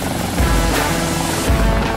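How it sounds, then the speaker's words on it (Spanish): Rescue helicopter in flight on a sea air-evacuation mission, its rotor giving a loud, steady, close throbbing drone with a broad roar that runs continuously for two seconds and has no speech over it. "nos dirigimos al lugar arriba de un helicóptero con el apoyo de un avión de la Estación Aérea Mar del Plata"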